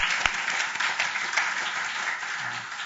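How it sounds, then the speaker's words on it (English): Audience applause at a law school teaching awards ceremony, a steady dense patter of many hands clapping throughout, fairly loud and continuous with no talk over it. "now we need to do a clap to keep this consistent"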